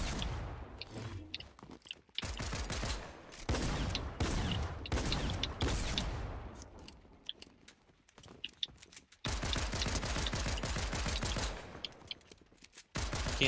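Rapid bursts of gunfire in Fortnite, clustered volleys of sharp shots repeating in loud dense runs separated by short gaps, close and dominant.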